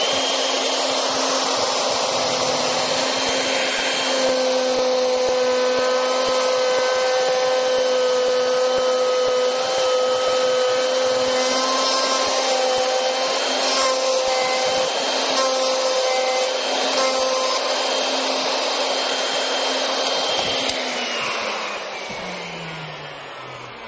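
A handheld wood router cuts into wood with a loud, continuous high-pitched whine and steady tonal hum, held for about twenty seconds before the motor winds down at the end.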